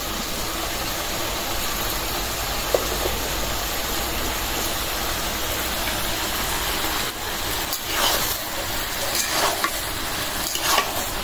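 Dried fish curry with cumin powder sizzles steadily in a pan, with a continuous frying hiss and a few scraping stirs near the end.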